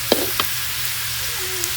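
Onions fry in a pan with a steady bright sizzle and a couple of soft clicks, heard alone.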